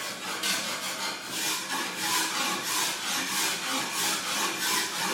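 Steady rhythmic rasping of a file stroking back and forth across a blade, close and even, about two strokes per second with no talking.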